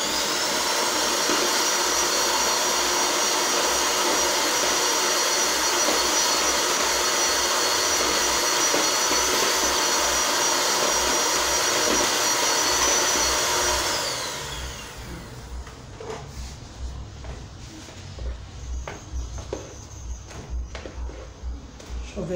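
An electric mixer beats cake frosting for a rectangular Frozen-themed cake, giving a loud, steady motor whine for about fourteen seconds before it cuts off, leaving quieter handling noises.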